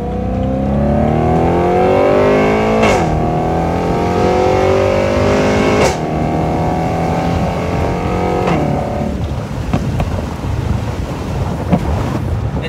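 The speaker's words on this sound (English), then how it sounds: "Put the top down, just listen to that exhaust noise. It sounds so good." A BMW E93 M3 convertible with the top down, its exhaust a loud steady engine drone that rises through gears, with brief dips at each shift, under heavy wind rush from the open cabin.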